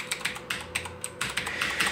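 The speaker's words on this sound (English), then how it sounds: "And this is a mechanical keyboard." Steady typing on a Razer mechanical keyboard, with crisp, rapid clacking keystrokes in an uneven rhythm, close and loud with no voices.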